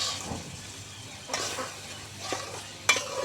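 Pangas fish sautéing in a pan: a soft, steady sizzle with a few spatula scrapes and one sharper clink near the end, close and fairly quiet, with no talking.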